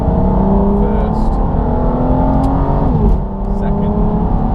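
A 2005 Aston Martin DB9 accelerating hard from low revs in first gear, engine note climbing steadily and loud inside the cabin, then a brief dip at a shift, with someone talking over it.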